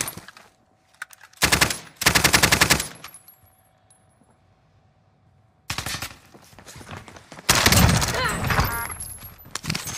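Automatic gunfire in the video game Warzone comes in loud, dense bursts, with a long sustained volley early on, a quiet gap, and then heavier rattling fire near the end. A faint tone runs under the quieter stretch.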